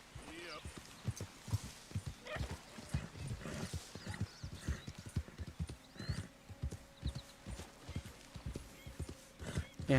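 A horse's hooves clip-clop in an uneven, brisk rhythm on ground in Red Dead Redemption 2, fairly close and moderately loud, with a brief whinny mixed in.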